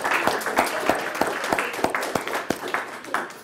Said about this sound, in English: Let's give a round of applause to all three of our presenters again.